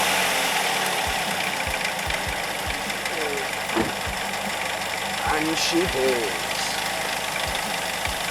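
A car engine cranks and catches, then settles into a steady idle with a regular knocking pulse after a thermostat replacement done to fix overheating; someone speaks briefly over it.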